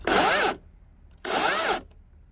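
A DeWalt FLEX 20V/60V brushless chainsaw runs its chain in two short bursts of about half a second each. Each burst is a loud, close, high-pitched whir with a gap between them.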